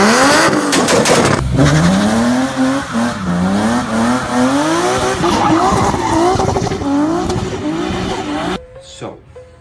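BMW E36 engine revving hard with loud, continuous tire squeal, the pitch rising and falling in repeated sweeps as the car drifts, up close for about nine seconds before cutting out abruptly.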